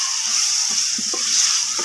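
Turnip and pea masala with tomato, salt and red chili frying in a pan, a dense continuous sizzle with a few soft stirring knocks, close and alone.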